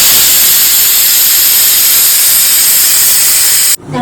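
Refined oil hits chicken that is being cooked down for homemade biryani, and the pan gives off a loud, steady sizzling hiss. The hiss holds without a break for nearly four seconds and then cuts off sharply.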